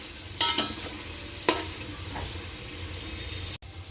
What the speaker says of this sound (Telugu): ఇలా ఆయిల్ వేసుకొని బాగా దూరగా వేయించుకోండి.